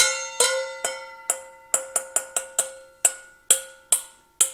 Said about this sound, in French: le bol de métal pourrait remplacer, par exemple, une cloche à vache.